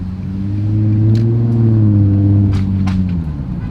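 A straight-piped Infiniti G35 engine revs loud and close, a deep rumbling exhaust note swelling and then dropping during a downshift, with no talk over it.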